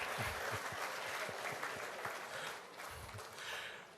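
Sustained audience clapping fills a hall at the 2019 CXC results release ceremony, many hands at once with a few heavier thumps mixed in, easing slightly toward the end.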